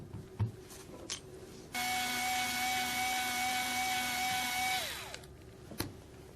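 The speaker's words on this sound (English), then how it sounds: "the next step in the sensor replacement process would be to remove these 4 Phillips screws" A powered screwdriver removes Phillips screws from the cover of a MultiRAE gas monitor, a steady whining motor run of about three seconds that winds down, framed by a few soft handling clicks and taps.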